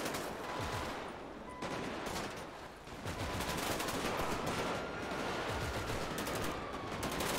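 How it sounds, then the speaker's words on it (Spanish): Sustained gunfire in a GTA V shootout between armored marine police and narco gangs during a chase, with dense overlapping shots running steadily for several seconds at a moderate level, broken by a brief lull near the middle. "Que nos apoyen con... aquí con el tiroteo, con la balacera."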